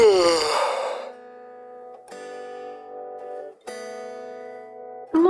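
A single human yawn, loud and close, rising into a breathy open-mouthed sound and fading, followed by a tonal musical background.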